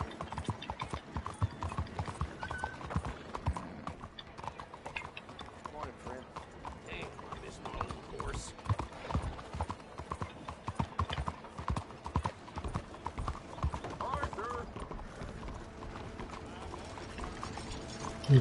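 Horse hooves clip-clopping in the video game Red Dead Redemption 2, a quiet, steady run of hoofbeats continuing throughout beneath someone talking.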